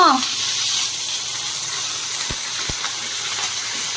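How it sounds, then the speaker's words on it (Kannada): Mustard seeds and dried red chillies crackle and sizzle in hot oil for a sambar tempering with bamboo shoot, a steady hiss throughout with a couple of sharp pops near the end. "ಚಟ್ರಪಟ್ರ ನನಗಿಂತ ಜಾಸ್ತಿ ಸೌಂಡ್ ಮಾಡ್ತಾಯಿತ್ತು."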